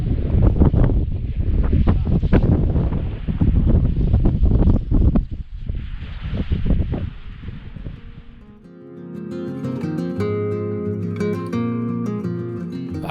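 Wind blowing on a mountain ridge in Durmitor National Park, Montenegro, heavy buffeting rumble against the microphone in loud gusts for several seconds before giving way to music.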